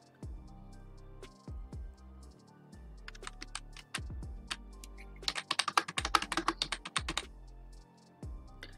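Keys clatter on a computer keyboard as an email and password are entered, sparse taps at first, then a fast, dense burst of typing, close and crisp.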